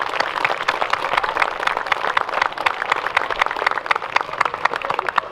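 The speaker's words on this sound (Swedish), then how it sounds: "Jag tycker vi ger kören en stor rungande sista applåd." An outdoor Walpurgis Night audience gives a choir a final round of applause, a moderately loud patter of many hands with distinct individual claps, steady throughout without voices.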